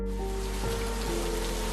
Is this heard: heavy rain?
yes